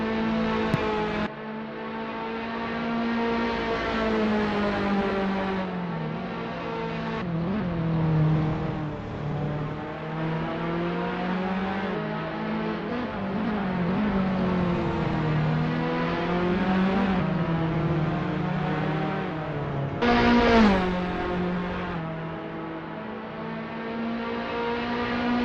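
Formula Alfa open-wheel race car engines in a sim racing game, a steady high-pitched engine drone with shifting pitch as cars accelerate and lift, continuous and fairly loud throughout, with a brief surge near the end.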